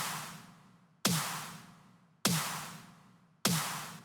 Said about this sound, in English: So when the snare is actually blending of some modern stuff with some